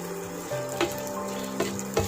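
Grated coconut sautéing in a pan, a soft steady sizzle with a few brief scraping stirs, close and fairly quiet.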